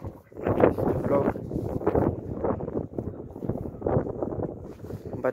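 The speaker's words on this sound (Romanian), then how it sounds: "Îmi bate vântul cam tare afară." Strong wind outdoors buffets the microphone in heavy low gusts, rumbling continuously with surges and lulls.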